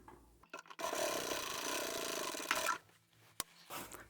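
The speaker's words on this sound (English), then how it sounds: "I'm going to sew 1 centimetre or 3/8 of an inch further in" Domestic sewing machine stitching a boxed corner seam on a bag, a steady close whirring run of about two seconds after a short start, then stopping with a few faint clicks.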